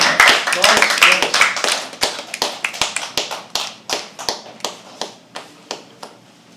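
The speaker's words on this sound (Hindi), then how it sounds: "एक बार जोरदार तालियां सत्यम के लिए।" A small open mic poetry audience claps for a poet, starting as a brisk cluster of handclaps that thins out into slower, separate claps from a few people before fading, with a voice speaking over it.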